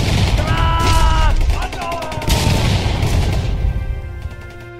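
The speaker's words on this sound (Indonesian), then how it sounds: "Terjadi baku tembak dan duel jarak dekat." Gunfire crackles through a theatrical battle reenactment of the pre-proclamation independence struggle, loud bursts and rapid shots over shouting crowd and voices, with dense overlapping noise throughout.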